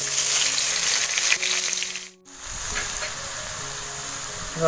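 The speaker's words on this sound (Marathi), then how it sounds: "आता ह्यात मी एक हिरवी मिरची आणि कढीपत्ता टाकते अगोदर, नंतर कांदा." Green chili and curry leaves frying in hot oil on a wood-fired stove, a loud, steady close sizzle that briefly cuts out near the middle before resuming.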